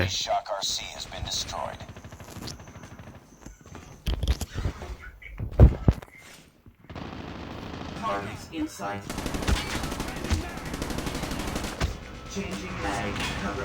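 Video game gunfire: bursts of rapid automatic shots mixed with single cracks, loud and close, with a brief near-silent gap midway before dense firing resumes; a player talks over parts of it.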